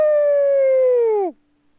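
A human voice imitates a wolf howl in a tabletop D&D game, one long, loud, steady sustained tone that drops in pitch and cuts off sharply.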